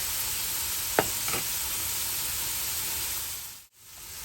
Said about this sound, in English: I've got my heat on medium-high, and like I said, we're going to saute these for about 2-3 minutes